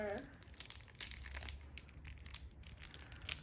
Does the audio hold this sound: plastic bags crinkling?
yes